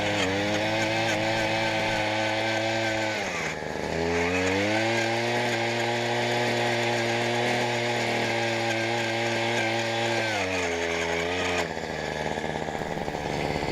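A gas-powered auger boring holes in the ground on a rural property, its engine droning loud and close, dipping in pitch twice as the bit loads up in the soil and then revving back.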